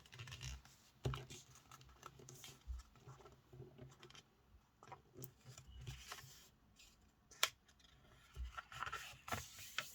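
Paper being folded into a paper aeroplane gives soft, close crinkles, taps and scrapes in irregular bursts, faint and without any talk.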